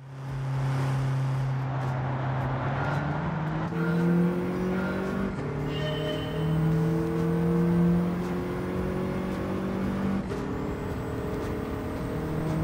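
A hot hatch's engine in Gran Turismo 7, played in VR, holds a steady, close tone that rises and shifts pitch as the car accelerates through gears, with no talking.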